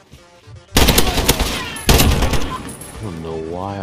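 Automatic gunfire from the video game Modern Warfare bursts out loud in two sustained fusillades, with a short gap between them, and then a rising electronic tone follows.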